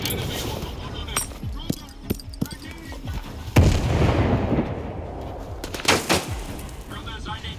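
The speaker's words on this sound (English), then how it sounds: "Take this grenade." A grenade blast and bursts of gunfire in the STALKER 2 shooter: scattered sharp shots lead up to a heavy explosion with a rolling tail, then more gunfire near the end, with voices talking through it.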